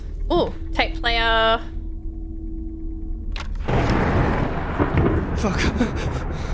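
Thunder from a storm rumbling in a game, a low rolling roar that builds after a few seconds, following synthetic tones and a voice speaking.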